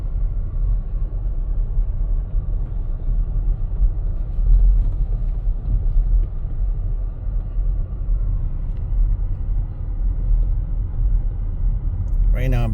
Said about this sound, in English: Right now I'm driving 7 miles an hour.